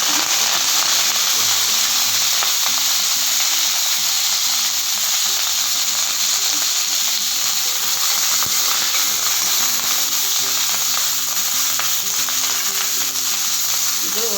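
Mustard seeds, curry leaves and dry chillies sizzle steadily in hot oil, a loud continuous hiss and crackle with faint stirring clinks, close to the pan throughout.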